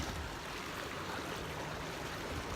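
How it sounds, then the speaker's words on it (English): Steady rushing water from waves churned up by a windmill in a Dutch forest, a continuous broadband wash with no breaks and no voices. "These waves. They are getting created by the windmill."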